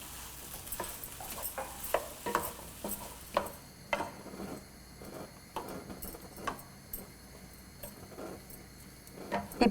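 Chopped mushroom being mixed into brinjal in a frying pan, with steady, repeated scrapes and taps of a spoon against the pan, fairly close, over a faint low hiss.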